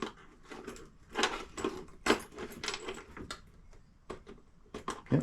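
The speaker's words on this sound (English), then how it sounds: "Yep, I hear the solenoid clicking." Repeated sharp clicking from the starter solenoid of a Husqvarna riding mower fitted with a new dash, a series of short, close metallic clicks at irregular intervals.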